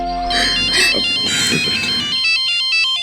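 A melodic electronic phone ringtone plays loudly, repeating its tune in bright chiming tones, with a brief voice-like sound partway through.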